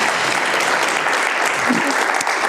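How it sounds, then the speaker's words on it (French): Sustained audience applause fills a conference hall after talks on mountaineering, climbing and cycling, a dense, even wash of many hands clapping close and loud throughout. "On peut les applaudir pour tous leurs exploits"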